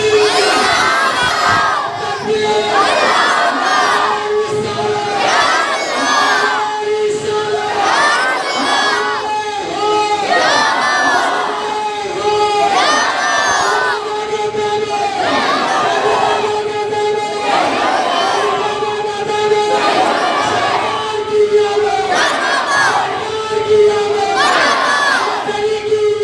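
A large crowd answers the Nara-e-Takbir call, roaring back in unison in loud, rhythmic bursts every couple of seconds.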